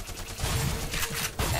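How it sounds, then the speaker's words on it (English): Shotgun blasts in Black Mesa: a few heavy bursts spaced through about a second and a half, loud and close, with no voice over them. "Ah, good old shotgun."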